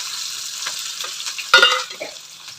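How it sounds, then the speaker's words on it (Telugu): Mustard seeds, cumin and onion hit hot oil in a pan with a steady loud sizzle, which flares up sharply partway through as more goes in, close and alone. "ఆయిల్ వేడింది ఇప్పుడు ఆవాలు జీలకర్ర ఇప్పుడు ఒక ఉల్లిగడ్డ"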